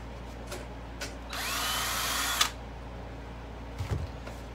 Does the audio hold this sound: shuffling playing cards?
no